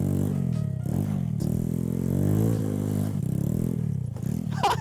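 Engine of a $200 mini bike with a swapped-in 125cc motor revving hard through a clutch-up wheelie, a loud continuous buzzing drone that rises and falls in pitch several times, close and without talk.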